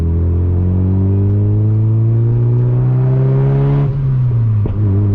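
Mazda MX-5 NB engine pulling steadily on a dark country road at night, a loud rising drone with strong harmonics climbing, then dropping off as the throttle lifts, with a brief crackle from the exhaust near the end.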